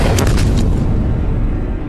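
A giant railway cannon on the English Channel coast fires a 457 mm shell weighing one tonne, giving a single loud, deep boom that rumbles and slowly fades over two seconds, with no voices.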